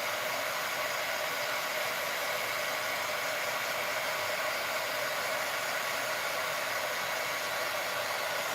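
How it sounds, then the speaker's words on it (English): A pink hair dryer, its body smeared with red, blue and green paint, runs steadily throughout with a constant, close, airy roar and no other sounds over it. "You like my pink dryer?"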